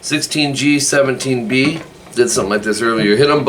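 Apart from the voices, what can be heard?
No everyday noises stand out.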